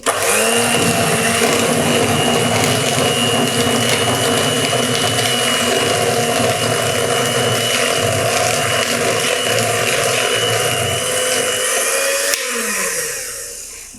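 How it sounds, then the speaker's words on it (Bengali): An electric beater runs on speed one mixing orange-flavoured cupcake batter, a loud, steady mechanical whir with a grinding texture held close for most of the time, then winding down with a falling pitch near the end. "অরেঞ্জ ইমালশন দিয়ে মিশিয়ে নেব বিটার স্পিড ওয়ানে রেখে"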